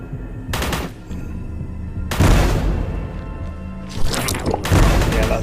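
Heavy gunfire from shooting in the first-person game Forgive Me Father, coming in loud bursts with short lulls between them, along with booming impacts.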